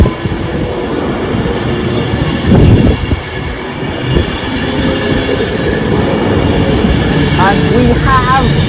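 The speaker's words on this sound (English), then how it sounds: "This will be the last ever Virgin train I filmed." A Virgin passenger train rumbles past on its last day of service, a loud steady roar of wheels and rail with brief surges and a couple of high wheel squeals, a voice briefly audible beneath it.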